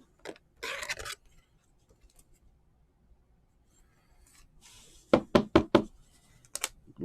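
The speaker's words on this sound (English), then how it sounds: "Might hear a knock on the door soon." Several sharp knocks on a door, a quick cluster of raps near the end following an earlier isolated thump and some rustling, heard fairly close in a quiet room with no talking.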